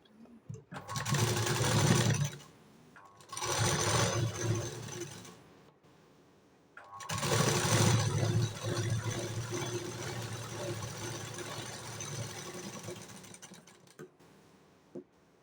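Sewing machine running a straight line of stitching on a blouse, loud and close, in three bursts of steady whirring separated by short pauses, the last burst long and continuous.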